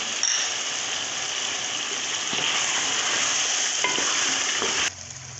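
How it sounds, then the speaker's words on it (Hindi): Tomato and green chili sizzle as they fry with chicken and potatoes for a curry, a steady broadband crackle with occasional stirring clicks that drops suddenly near the end. "इसमें टमाटर और हरी मिर्च को डाल के हल्का सा भून लेंगे।"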